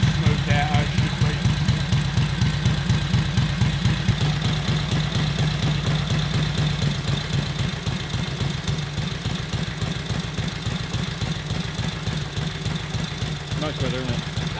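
A 1941 Harley-Davidson WLC motorcycle engine runs smoothly at a steady idle, with a fast, even, thumping exhaust beat heard close up throughout.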